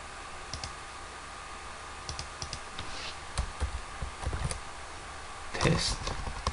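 Close, crisp computer mouse clicks scattered at irregular intervals, with a few keyboard-like taps mixed in and a faint steady room hum underneath.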